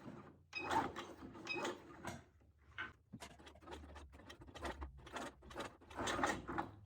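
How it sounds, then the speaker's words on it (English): A heavy duty sewing machine stitches a sling and holster for a stocked Glock pistol, quiet mechanical clicking and whirring bursts in short irregular runs, close and faint, with no talking. "Heavy duty sewing machine to the rescue."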